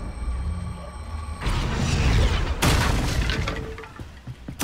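Confringo blasting spell in Hogwarts Legacy erupts in a loud booming burst, followed by a sustained crackling, debris-filled roar with further sharp impacts near the end.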